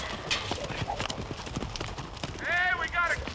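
Horses at a Texas ranch offering bronco riding clop with quick rhythmic hoofbeats, and a whinny rises near the end, mixed with talk and voices over the scene.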